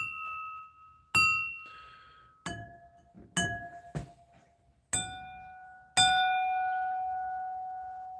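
Three vintage crystal bowls struck one after another, each giving a bright glassy ding that rings on and decays, with six separate strikes and the final tone sustaining longest in a quiet room.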